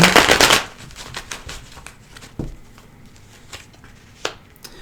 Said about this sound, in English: Do one more shuffle after this one.